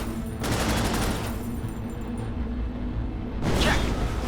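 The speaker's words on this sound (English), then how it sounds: "rattle off a few rounds from the machine gun into the targets" A mech's machine gun in the video game Cryptark rattles off a rapid, continuous burst of rounds at targets, dense and loud, ending with a brief whooshing sweep.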